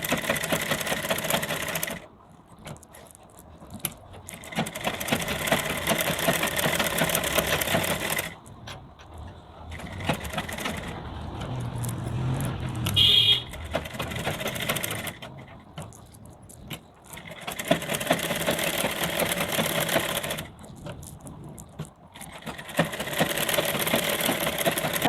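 A sewing machine runs in repeated bursts while stitching the lining of a blouse all around, its close, rapid mechanical whirring broken by short pauses as the fabric is repositioned.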